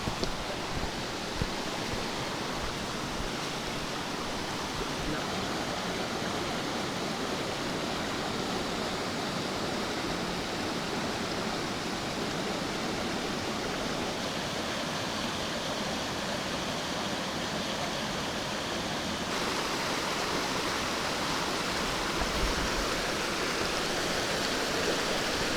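A river spilling across a hiking trail road in Borjomi National Park, Georgia, roars as steady, dense rushing water, close and loud throughout with no breaks.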